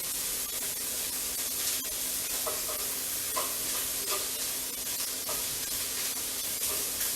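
Bacon fries in a pan over medium heat, a steady close sizzle with scattered small pops and crackles, no talking.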